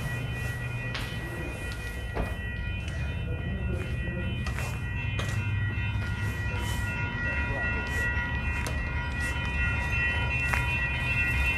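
A light rail train rolling in at a Calgary stop in -30°C cold with a steady low rumble and faint clicking of wheels, distant squeals and tones riding over the constant noise.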